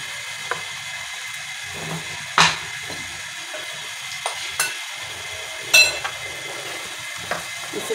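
Marinated chicken and potatoes frying in a pan, with a soft, steady sizzle broken by scattered clinks and scrapes of a spoon stirring against the metal.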